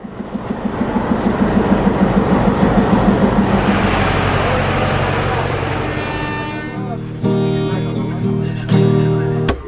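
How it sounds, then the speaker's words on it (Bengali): A local passenger train running from Khulna to Phultala, with a steady rhythmic rumble and clatter close by for several seconds before music swells up over it. "আমরা এখন খুলনা থেকে ফুলতলা অবধি আমার পিছে থাকা এই লোকাল ট্রেনটিতে করে যাত্রা করতে যাচ্ছি।"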